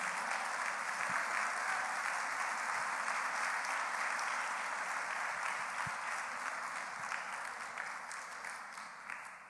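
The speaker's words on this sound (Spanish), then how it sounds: "Denle un aplauso al Señor." Sustained, loud applause from a church congregation giving applause to the Lord during a Spanish-language sermon, steady throughout with many hands clapping together and slowly easing toward the end.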